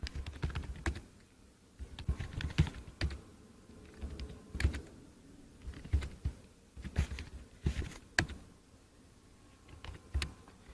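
Typing on a computer keyboard while entering names and roll numbers into a running C++ program: irregular clusters of crisp key clicks with short pauses, close and fairly quiet, no speech.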